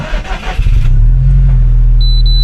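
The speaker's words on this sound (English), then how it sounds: "Let's just start the car." A Subaru WRX STI RA-R (VAB) engine cranks briefly, then catches and settles into a loud, steady, deep idle close by, with a thin electronic chime beeping near the end.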